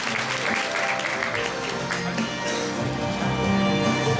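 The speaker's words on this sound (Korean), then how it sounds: "큰 박수 부탁드리겠습니다." Crowd applause at a promotional blogger event in Korea, dense and continuous clapping from a large audience throughout, loud and broad, with a low background hum beneath.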